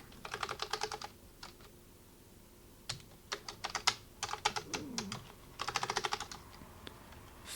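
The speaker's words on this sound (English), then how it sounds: "I'm pressing a lot of things on my keyboard." Keys pressed on a computer keyboard during a stream of Clu Clu Land and related games, heard as irregular bursts of rapid clicky taps separated by pauses, close and clear with no speech.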